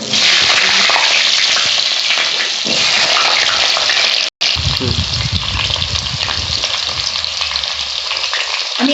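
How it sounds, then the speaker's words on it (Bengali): Potatoes frying in a pan, a loud continuous sizzle that cuts out for an instant midway, then returns with some low bubbling. "এবার আমি আলুগুলো ভেজে নিচ্ছি।"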